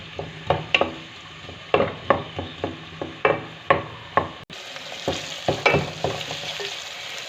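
Chopped onions in a cup of oil sizzle steadily in a pan while a spoon stirs and scrapes, giving sharp repeated clinks over the frying hiss at close range.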